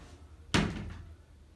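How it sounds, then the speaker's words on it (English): A balcony door is pushed shut in a single firm thud with a short fading rattle, heard once in an otherwise quiet room. "let me just shut this door a minute"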